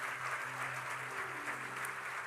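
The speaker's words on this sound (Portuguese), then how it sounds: "Aplauda bem alto." Loud, sustained applause from a church congregation welcoming a pastor to the pulpit, a dense steady roar of clapping that fills the space evenly from start to finish with no break.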